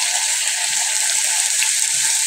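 Leafy greens hit a pan of fried onion, garlic and ginger, giving a loud, steady, close sizzle with faint crackles and no talking.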